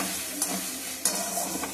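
Onions fry in hot oil as a spoon stirs them through the pan, a steady soft sizzle broken by a couple of sharp scraping clinks.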